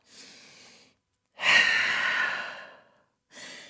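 Deep breathing during a yoga downward dog pose: a soft exhale, then a long, loud, airy breath and a shorter breath after it, close and with no talking.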